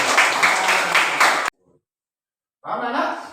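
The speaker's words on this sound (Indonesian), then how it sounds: "Ya, tepuk tangan untuk Suci." Classroom applause for a student, a dense burst of clapping that runs about a second and a half, stops cold, then resumes after a short silence.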